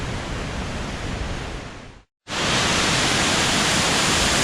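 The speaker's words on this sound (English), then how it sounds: "This is yet another waterfall, and Saul, it's got 3 drops to it." Waterfall with three drops near Guadalupe, Colombia, a steady loud broadband rush of falling water close by, broken by a brief silent gap near the middle before the roar resumes just as strong.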